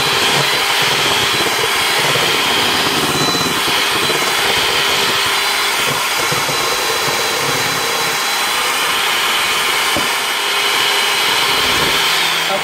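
Electric egg beaters whirring steadily as they mix blueberry waffle batter, a loud continuous motor drone lasting throughout with no talking.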